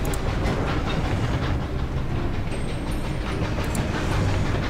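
A train rolls along rails in the Skylanders Spyro's Adventure video game, making a steady loud rumble with rhythmic clickety-clack and no talking.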